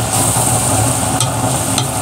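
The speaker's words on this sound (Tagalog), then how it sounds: "yan lang po ay tuloy-tuloy nating igisa" Garlic and black pepper sauté in a pan for Bicol-style goat bopis. A constant close sizzle is joined by two brief sharp clinks of stirring.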